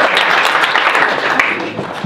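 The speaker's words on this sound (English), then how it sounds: "You can applaud, that's cool." Conference audience applauding a talk, a dense, steady burst of clapping that fills the room and fades slightly near the end.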